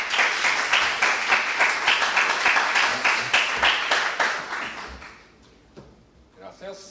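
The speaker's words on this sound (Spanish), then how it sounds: "Un aplauso para Ricard." Audience applause following a speaker's introduction at a live talk: dense, loud clapping from a crowd sustained for about five seconds, then fading out into scattered claps and quiet room noise.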